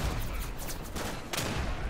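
Dense distant rifle and machine-gun fire in the World War II shooter Day of Infamy, a continuous rattling fusillade of bullets with a sharper crack near the end, moderately faint, no talk.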